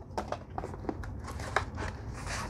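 Sketchbook packaging being ripped open by hand, a quick run of sharp crinkling tears and crackles at close range, lasting a couple of seconds.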